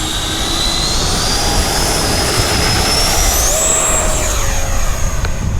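An FMS Hawk 80mm RC jet screams loudly at launch, its ducted fan whine rising and sweeping in pitch as the plane climbs away, with a steady roar of wind and engine noise.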